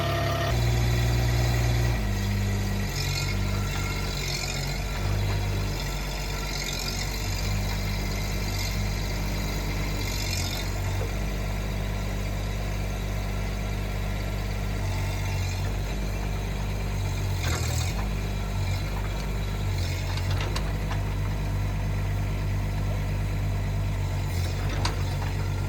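A Chinese NT18K mini excavator's engine idles steadily as it warms up, a continuous low diesel rumble with vibration that stays even and close throughout, with no talk.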